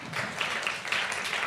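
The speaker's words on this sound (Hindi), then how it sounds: "एक बार जोरदार तालियों से स्वागत कर दीजिए" Steady, dense applause from a studio audience at a Hindi news channel interview, welcoming a political guest, filling the whole moment without a break.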